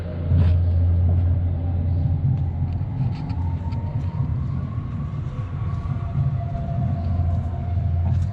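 A continuous low mechanical rumble, like a large ride or track machinery running, steady and moderately loud with faint rattles and a rising whine.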